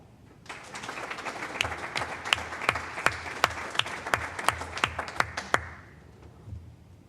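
An audience at a board of education meeting gives sustained applause to school principals. Many hands clap steadily for about five seconds, with several loud, close individual claps standing out in a regular rhythm before the clapping tapers off.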